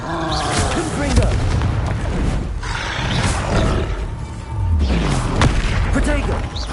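Blasts from the Confringo spell boom and roar in quick bursts, several heavy explosive hits with crackling tails, loud and close amid shouting voices.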